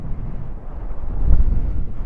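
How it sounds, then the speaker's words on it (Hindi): Strong wind gusts at Pangong Lake buffet the microphone with a low rumbling roar that swells and fades briefly, close and alone without talk. "उधर भी पानी उठ रहा है लेक से, हवा चल रही है बहुत तेज।"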